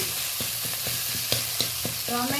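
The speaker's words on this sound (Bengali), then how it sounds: "টমেটো পেঁয়াজ কাঁচা লঙ্কা বেশ ভালোভাবে ভেজে নিয়েছি ভাজা ভাজা হয়ে গেছে" Tomato, onion and green chili fry in a pan with a steady close sizzle, punctuated by several sharp scrapes and clinks of a spatula stirring against the metal.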